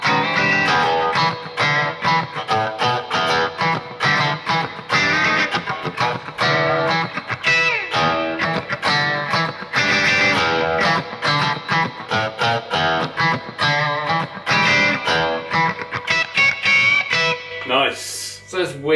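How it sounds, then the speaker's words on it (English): Electric guitar, a Fender Stratocaster with out-of-phase pickups, played continuously with a nasal, quacky, wah-like tone, loud and busy throughout, fading out at the very end. "it sounds like you've got a wah pedal turned all the way on"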